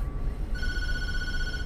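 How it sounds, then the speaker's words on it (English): An electronic telephone rings in the video game Tattletail, a steady high trilling tone that starts partway in over a low rumbling background. "Don't answer the phone with pleasure."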